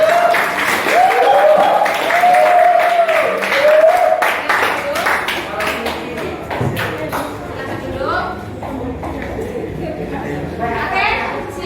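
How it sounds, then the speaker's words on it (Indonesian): Applause and clapping from a classroom of students for a student group, dense and sustained throughout, with voices and chatter mixed in. "silakan berikan aplaus kepada kelompok"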